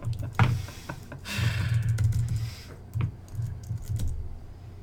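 Clattering keystrokes on a computer keyboard come in uneven bursts with brief pauses, close and steady over a low background hum, and nobody speaks.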